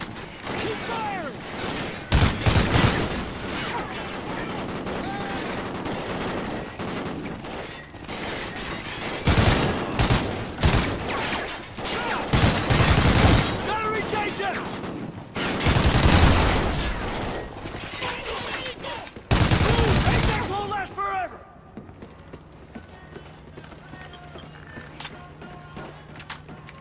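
Sustained automatic gunfire from the Call of Duty: Ghosts video game, loud dense bursts repeating with brief gaps, then cutting out near the end to a quieter low hum.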